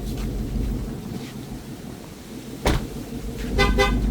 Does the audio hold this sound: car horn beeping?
yes